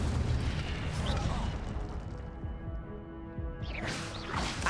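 An Incendio fire spell is cast in a Harry Potter video game, heard as a loud, close burst of crackling, booming fire that rumbles and fades, then flares again near the end over dense game sound.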